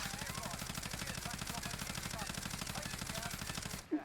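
Rapid, steady automatic fire from the Cold War Bullfrog submachine gun in Warzone, a dense continuous burst close up for about four seconds before it cuts off abruptly, with no talking.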